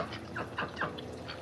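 Ducks and chickens in a backyard habitat near a chicken coop, giving a few short quacking or clucking calls at moderate distance over a quiet outdoor background.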